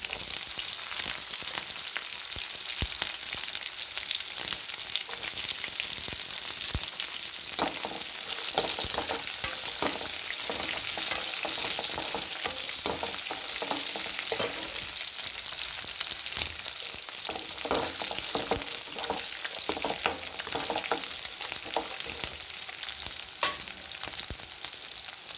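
Green chillies and garlic fry in hot oil, giving a continuous loud crackling sizzle with frequent sharp pops and occasional stirring scrapes, steady for the whole stretch with no talk.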